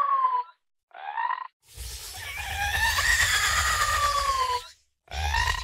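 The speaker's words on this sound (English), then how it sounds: "really makes it feel like the creature is like screaming at you and you get that nice bit of clipping" A designed alien worm creature vocal, saturated and clipping: two short wavering shrieks, then a long harsh screaming roar with gritty low rumble, and a final short burst, loud and close with silent gaps between.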